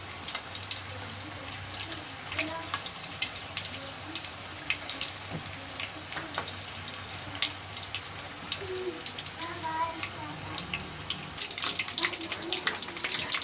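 Five or six kofta meatballs fry in oil for a Pakistani kofta curry, producing a long, even bubbling sizzle with fine crackling pops that grow slightly busier toward the end.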